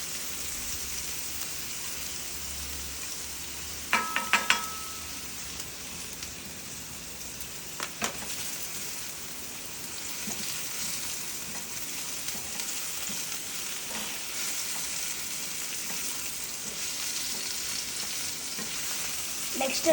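Garlic sizzles steadily in a hot pan for noodles, a continuous frying hiss with a few brief clinks of stirring near the start and middle, no one speaking.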